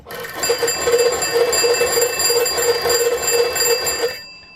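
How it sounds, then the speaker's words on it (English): A loud, rapid metallic bell of a German Feldfernsprecher 33 field telephone, rung by its hand-cranked generator, rings continuously for about four seconds, buzzing and rattling, then stops abruptly. "you can hear the bell ringing."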